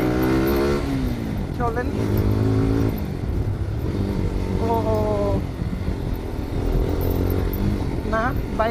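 A motorcycle rides along a rural road with gravel and loose asphalt grit, its engine droning steadily with occasional rising revs, close and loud beneath someone speaking throughout.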